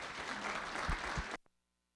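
Audience applause closing a workforce summit conference session, a full sustained round of clapping that cuts off abruptly after about a second and a half, leaving near silence.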